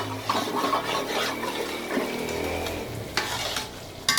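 Masala for a fish curry roasting in a pan, stirred steadily with a utensil scraping the metal over a constant sizzle, with a few sharper clinks near the end.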